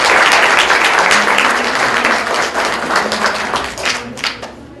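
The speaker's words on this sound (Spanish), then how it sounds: "Pido para él un aplauso." An audience claps warmly for a speaker at a foreign trade statistics lecture, dense applause that starts full and gradually thins into scattered claps as it fades.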